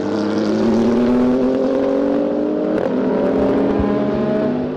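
Race cars, among them a Ginetta G50 and a BMW, pull away from pit stops at Magny-Cours during an endurance race, their engines roaring loud and close and rising in pitch as they accelerate, with a brief passing whoosh partway through.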